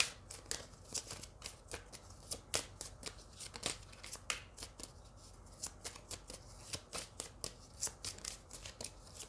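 A deck of tarot cards is shuffled close up, with a quick, regular run of crisp riffling snaps repeated steadily for several seconds at a soft level, and no voice.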